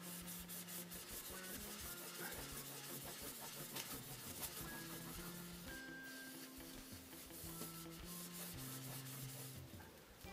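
Steady, close rubbing as a knife bevel is hand sanded on an abrasive with slurry, a continuous soft scraping that runs without pause, with a tonal hum and faint ringing behind it.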